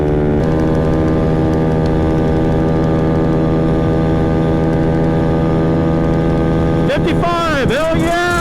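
A modified 50cc Maddog scooter engine screams loud and steady at high revs close by, its pitch bending and wavering near the end as the throttle is worked.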